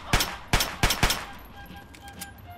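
A rifle fires in Fallout 3: four sharp, loud shots within about a second, each followed by a short ringing tail, then quieter game sounds.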